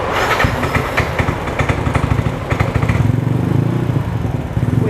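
A modified Yamaha NMAX scooter with a 50 mm racing inlet revs hard up close, its engine note loud and pulsing with rapid throttle blips and a throbbing idle rhythm throughout.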